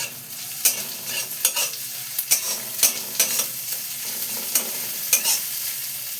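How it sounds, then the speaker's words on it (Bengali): Grated ginger and crushed garlic fry in a pan for a Bengali okra fry, giving a steady close sizzle broken by repeated sharp scraping strokes of a spatula stirring at a brisk, uneven rhythm. "4-5টা রসুনের কোয়া, আর 1 ইঞ্চির মতো আদা নিয়ে দেখো এটার মধ্যে দিয়ে দিলাম"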